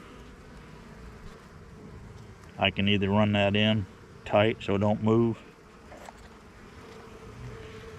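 Honey bees buzz around a hive in a steady, faint hum that runs throughout, with someone speaking briefly over it in the middle.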